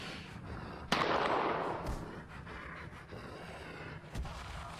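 Gunshot sound effects crack out during a tabletop role-playing session of Pulp Cthulhu, two or three sharp loud bangs with rumbling decay, no talk over them.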